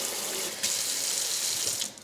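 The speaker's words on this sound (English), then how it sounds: "You can push the lever that way and you get cold water, push it this way, you get hot water" Kitchen sink faucet with a single lever for hot and cold water, in a typical 2010 American house, running in a steady full splashing rush close by, with a slight change in flow partway through.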